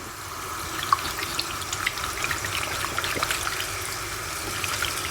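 Tap water runs steadily into a pot in a home kitchen, a continuous splashing stream with faint droplet ticks, no voices.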